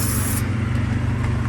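Spray gun coating a leather passenger car seat with paint, a steady close hiss running throughout without a break or any voices.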